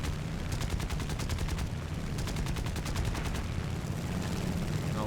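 The 7.7 mm machine guns on a Mitsubishi A6M2 fighter in War Thunder fire in rapid, evenly spaced bursts, a loud close chatter over steady engine drone, pausing briefly midway before resuming.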